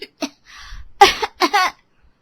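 A cartoon character fakes a cough, a few short throaty bursts with a brief pause between them, close and fairly loud with no other sound around.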